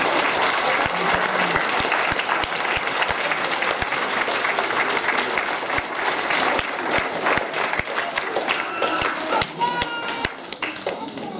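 A school audience at a World Book Day event breaks into a big round of applause, dense loud clapping sustained throughout, thinning slightly toward the end.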